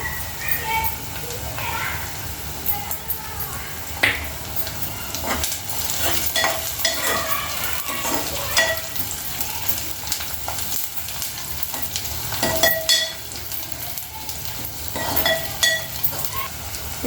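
Chana dal and onions sizzling in a hot pan as a spoon stirs them for a Telugu-style amaranth leaf fry, a steady close frying hiss with scraping and clinks, while someone talks throughout.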